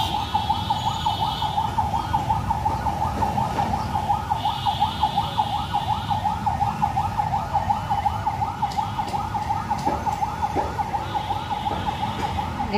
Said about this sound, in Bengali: এত গাড়ি আর এত গার্ড, পুলিশের গাড়ি, অ্যাম্বুলেন্স, এমন টাইপের গাড়ি।